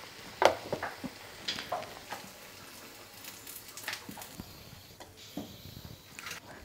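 Banana fritters (bhaji) fry in oil with a soft, continuous sizzle and scattered crackling pops, fairly quiet and close.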